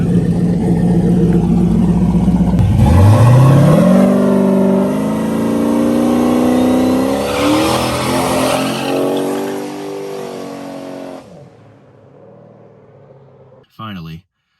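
A turbocharged Trans Am engine is revved hard on the brake, its pitch climbing and holding in a loud, sustained roar before dropping away. A voice talks over it and a brief burst of noise comes at the end.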